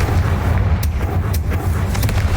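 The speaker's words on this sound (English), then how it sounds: "Це просто Confringo!" Confringo fire spell blasts in Hogwarts Legacy: a dense, rumbling barrage of booms with several sharp cracks, loud and continuous over a low roar, without speech.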